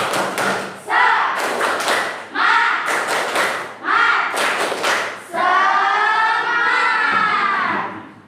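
A group of students in a school classroom claps out the rhythmic spirit cheer, sharp bursts of hands in short patterned runs separated by brief pauses, with voices chanting along between and over the claps.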